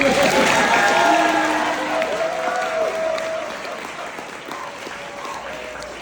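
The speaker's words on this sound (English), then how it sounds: "Oh, sorry, you can clap again." Audience applause for James Swygard at a senior thesis presentation on AI literacy in classical education, a loud sustained wash of clapping with some crowd murmur that tapers slightly over six seconds.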